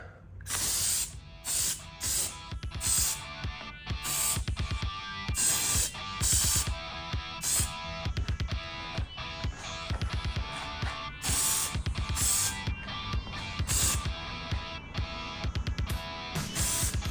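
Spray paint hisses in repeated bursts of a second or two as a white coat goes onto a vintage go-kart rim, close and loud, with short pauses between passes.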